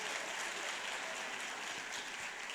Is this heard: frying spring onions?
no